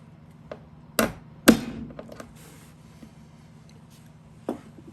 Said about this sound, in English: And we'll put a little hole punch in there.